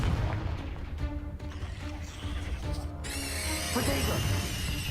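Confringo blasting spell explosions in Hogwarts Legacy on PS5, booming and crashing repeatedly inside a dense, continuous wall of game battle sound and music that stays loud throughout.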